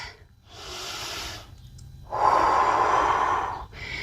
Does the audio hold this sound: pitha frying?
no